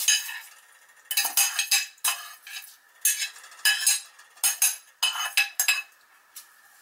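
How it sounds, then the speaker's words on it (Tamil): Roasted vermicelli being stirred into milk for kheer, with a spoon clinking and scraping against the pot in a series of short, close strokes and pauses between them. "சேர்த்து நல்லா கிளறி விட்டுக்கோங்க."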